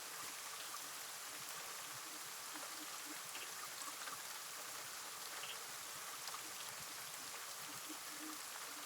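Heavy rain falls in a constant, soft hiss of drops, a steady distant wash with no voices or breaks throughout.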